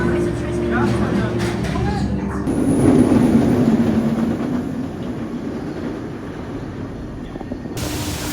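The Black Mamba inverted roller coaster train at Phantasialand, heard from the front row: a loud rumbling roar of the train on its track with a rising whoosh, fading gradually, accompanied by voices.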